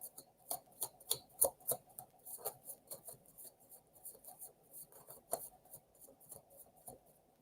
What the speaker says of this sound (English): I'm on a roll with shuffling.